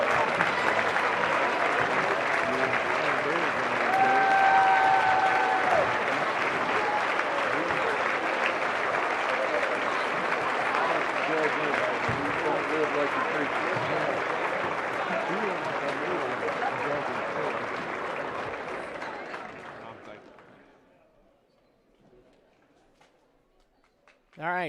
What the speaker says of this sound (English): Ladies and gentlemen, let's give these seniors another round of applause